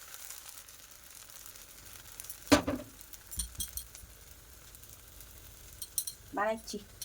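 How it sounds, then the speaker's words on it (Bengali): Rice cake (pitha) laid into a hot pot sizzles faintly and steadily. A sharp clank sounds early, scattered utensil clinks follow, and a brief voice comes near the end. "গরম হাড়িতে পিঠা বসাই দিছি"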